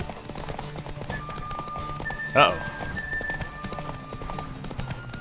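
Clip-clop hoofbeats of a horse galloping in The Witcher 3 run steadily under game sounds, with a brief whinny-like burst midway and a voice talking over it.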